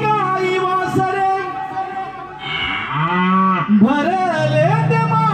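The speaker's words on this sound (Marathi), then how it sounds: "हंबरती गाई वासरे" Cows and calves mooing inside a Marathi Naman devotional remix song, with long bending lowing calls rising through dense music and singing.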